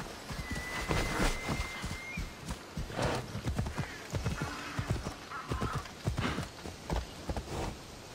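Horse hooves clip-clop in Assassin's Creed Odyssey in a steady galloping rhythm, loud and close, over a constant wash of game ambience with a faint whinny.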